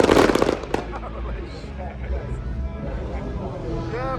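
A rapid crackling volley of firework pops opens loudly at a motorsport festival, then scattered fainter bangs and distant crackles continue over a low background hum.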